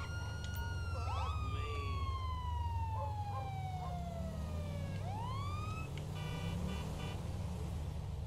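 Wailing police siren from a patrol car in the video game GTA 5, sweeping down in pitch then cycling into a rapid yelp, loud and continuous over steady engine rumble.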